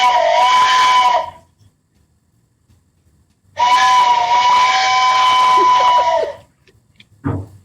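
Two long shrill blasts from a train whistle sound effect, the first short and the second longer, separated by silence, loud and close.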